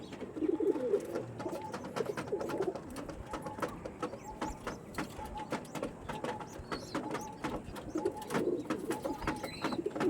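Andhra tournament pigeons cooing steadily throughout, near and moderately quiet, with soft repeated coos layered over faint wing flutters and light mechanical clicks.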